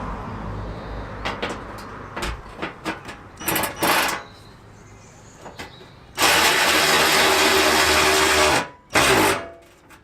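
Hand ratchet tightening parts on a salvage car, a run of sharp clicks and clatters, then a long loud burst of rapid ratcheting, a brief gap, and another short burst, close by.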